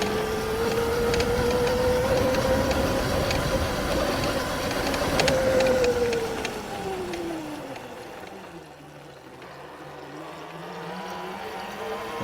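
Ebox V2 electric car driven at full throttle, its motor giving a steady, loud whine that sags and rises, then falls away as the run eases into quieter road and wind rumble.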